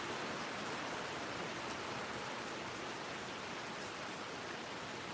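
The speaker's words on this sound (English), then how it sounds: "I don't like rainy days whenever I'm doing a video. I like the rain myself." Steady rain falling outdoors makes a soft, even hiss with no breaks. It stays faint and constant throughout, and no voices are heard.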